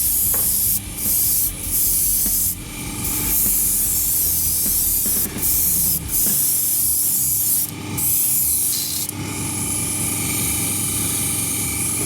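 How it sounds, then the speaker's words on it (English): Airbrushed SMS colour shift paint sprayed for a galaxy background on a Bloodbowl model, a loud hissing spray in repeated bursts broken by short pauses, steady rushing noise close to the mic. "as you can see there is a lot of spray that goes everywhere"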